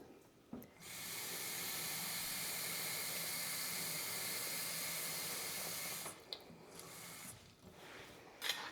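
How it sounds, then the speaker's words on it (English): Hot water runs steadily into jars of pumpkin being prepared for canning, a continuous close hissing pour lasting several seconds before stopping, followed by a few quieter handling noises. "we're just gonna fill these all with hot water"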